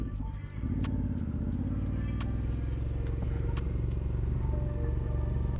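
Honda Africa Twin motorcycle riding off-road, its engine a steady, loud rumble with clattering from the bike and terrain throughout, plus a brief dip at the start.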